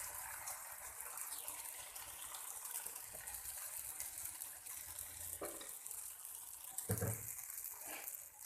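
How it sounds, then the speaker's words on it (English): Dosa batter hisses and sizzles steadily on a hot tawa, a continuous close frying crackle with brief louder bursts near the end. "Now I am putting dosa batter on the tawa."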